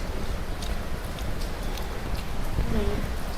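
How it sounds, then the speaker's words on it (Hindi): Heavy rain pours steadily, a dense, constant hiss of drops close by that never lets up. "बारिश तो तेज हो गई"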